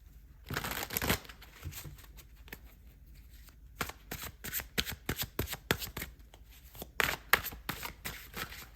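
Tarot cards are shuffled close up in repeated quick riffling and papery slapping bursts, separated by short pauses, with no talking.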